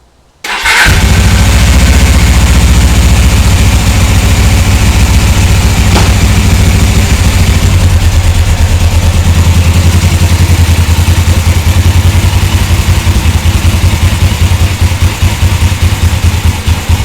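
A Suzuki GS450L motorcycle engine fires up and settles into a steady, loud, close idle, with a continuous low throbbing rumble that runs alone for the whole stretch.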